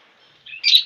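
Lovebirds in a breeding colony give a short burst of high, bright chirps that rise from faint twittering to a louder cluster near the end of the one-second clip.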